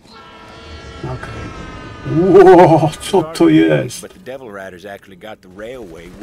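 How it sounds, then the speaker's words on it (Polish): Train departing in the video game Borderlands 3, a rumbling rail sound with a tonal horn-like blare that swells midway, while someone talks over it. "A to ten pociąg wyjechał."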